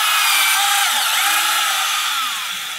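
Power drill boring about two inches into a wood block for a bee hotel, a loud close whine that dips in pitch as the bit bites and then tapers off.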